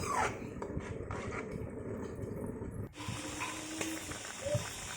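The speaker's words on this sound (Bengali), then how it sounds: "এবার জলটা আমি ফুটতে দেব।" Water coming to a boil for tomato chutney, a steady close hiss and bubbling that continues throughout, with a brief dip and a faint clink near the middle.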